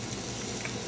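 Salmon fillets sizzle flesh side down in olive oil in a pan, giving a close, steady, dense crackle and hiss with no pause.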